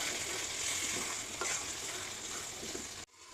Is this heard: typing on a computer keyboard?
no